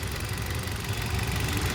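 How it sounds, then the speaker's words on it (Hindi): A Hyundai Venue's 1.2 L Kappa four-cylinder petrol engine idling, a steady, even low hum with a smooth, continuous drone and no talking. "4 सिलेंडर का इंजन है, जो कि आप देख सकते हैं बहुत ही ज़्यादा रिफाइंड इंजन है।"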